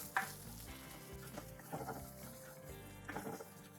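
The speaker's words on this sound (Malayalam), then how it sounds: "നമുക്ക് ജസ്റ്റ് ഒന്ന് സോട്ട് ചെയ്തെടുക്കാം." Green chillies and capsicum sauté in a pan, with a busy crackling sizzle and stirring scrapes heard close up over a few seconds, alone without talk.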